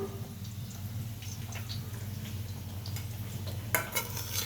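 Cabbage filling for paratha stirred in a pan, with a soft steady scraping and rustle over a low kitchen hum, and a few light metallic clinks of a spoon near the end.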